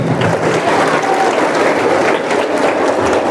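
Audience applause fills a school hall at a girls' high school talk: dense, steady clapping from many hands, loud and continuous throughout, with no break or voice over it.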